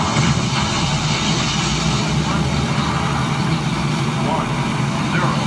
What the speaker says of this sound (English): Go for main engine start